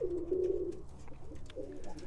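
Birmingham Roller pigeons coo nearby in low, throaty phrases, two soft calls separated by a short pause.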